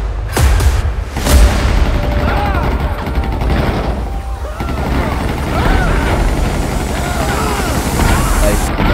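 Bazooka rockets explode during a firefight in GTA 5, with loud deep booms and crackling gunfire layered densely over one another while a voice talks over the chaos.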